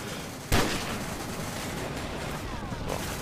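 A single sharp sniper rifle shot cracks out in Call of Duty 4: Modern Warfare, followed by a sustained din of distant battle noise and faint later reports.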